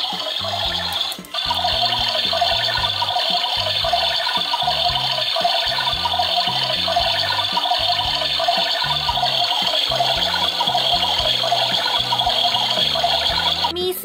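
A battery-powered toy washing machine runs with a steady electronic water-flow sound and a repeating mechanical whir, close and continuous after a brief click at the start.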